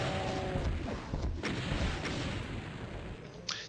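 Rocket blasts and explosions pound away at a Baron of Hell in DOOM, Map E4M7, a dense rumbling barrage of booms running throughout, with a sharper burst near the end.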